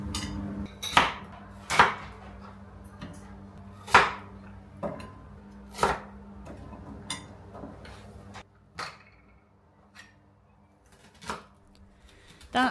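A knife cuts medium-sized potatoes into quarters on a board for shish kebabs. Sharp, separate chops come at irregular intervals over a faint low hum, close and fairly quiet.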